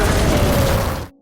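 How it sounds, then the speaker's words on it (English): A landmine blast in a film fills the moment with a loud, dense roar of noise that runs steadily for about a second, then cuts off abruptly into silence. "The explosion instantly kills him and alerts the guards."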